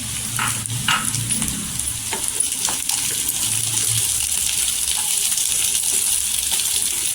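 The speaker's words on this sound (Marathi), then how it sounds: "वाटाणे छान असं तेलावर परतून घ्यायचं" Green peas sautéing in hot oil in a pan, a loud, steady sizzle with scraping and clinking from stirring strokes near the start, close up, with no voices.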